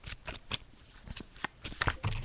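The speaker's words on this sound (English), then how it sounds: "I'm just shuffling the cards" Tarot cards are shuffled by hand in quick, soft bursts of riffling and sliding, fairly close and quiet, with brief pauses between.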